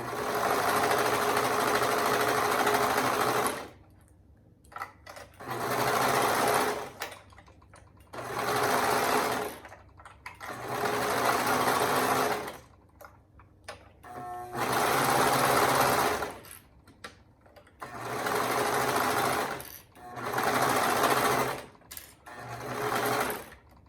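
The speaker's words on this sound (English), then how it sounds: "we're going to sew with a 1/2 inch seam allowance" A sewing machine stitches layered fabric along a half-inch seam allowance in about seven separate bursts, each a few seconds long with short pauses between them, loud and close with no talking.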